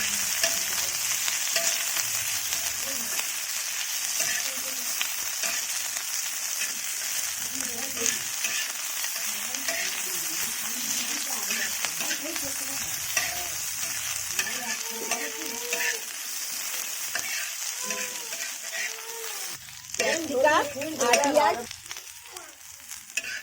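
Onion and capsicum fry in a hot kadai for a homemade chicken roll, giving a steady, close hiss of sizzling oil with frequent scraping stirs and a burst of louder clattering near the end, no voices.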